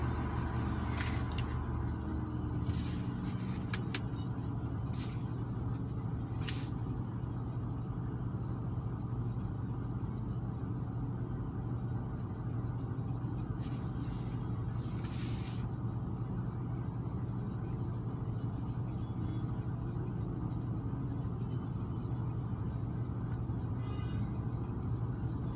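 Road traffic on Aruba Road with a long bus passing on the right, a steady low engine rumble and hum running throughout, with a few brief higher clicks and squeaks near the start and around the middle.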